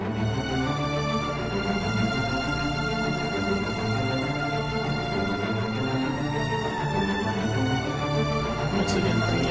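A full string section from the Cinematic Strings sample library plays a sustained, warm chord passage, dense and continuous at an even loudness throughout, with no voices.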